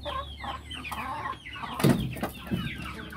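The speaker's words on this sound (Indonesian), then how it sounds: "Nah, ini jantan Bangkok ya. Jantan anakan impor" Imported young Bangkok rooster clucking close by, a few short low clucks and throaty calls over quiet background.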